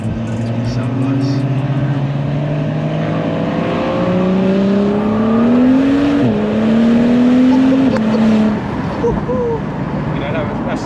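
A tuned 570 bhp BMW 135i with an N55 engine accelerating hard, heard from inside the car as a loud, rising engine drone that climbs through the gears, with short dips at the shifts and voices talking over it.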